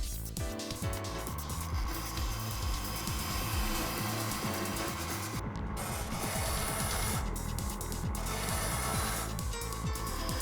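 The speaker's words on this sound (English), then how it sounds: "The diamond must be in contact with the sharpening stone. The lock nut is tightened. We true the stone." A Smartgrind water-cooled grinder runs as a diamond dresser trues its sharpening stone, giving a dense, continuous, close grinding hiss and scraping rasp with a few brief dips.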